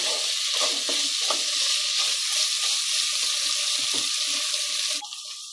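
Chicken pieces for a Kerala-style salad frying in a pan, a steady bright sizzle with intermittent scraping and stirring clatter, cutting off abruptly near the end.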